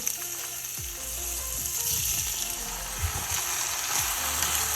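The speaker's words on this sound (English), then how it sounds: "I'm just gonna add a little bit of olive oil, and then I'm going to add my pork right to the skillet" Pork loin sears in olive oil in a skillet, a steady broad sizzle with faint metallic scraping and clicks running underneath, close and continuous throughout.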